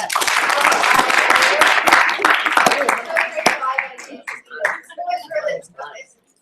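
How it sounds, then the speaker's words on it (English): Dinner guests at Monaco's Palace clap in a burst of dense applause that thins into scattered claps, with people talking and laughing as it fades. "if you guys enjoyed dinner, can you just clap"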